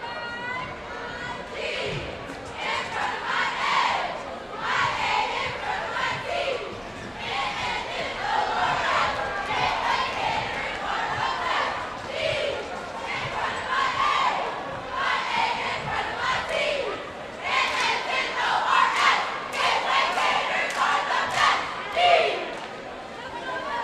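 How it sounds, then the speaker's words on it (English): A cheer squad chants at a high school boys' basketball game in a gym, with steady rhythmic group voices over a lively crowd that continues without a break. "We'll turn it over to the cheer squad now as they'll get us ready for our 4th and potentially final frame"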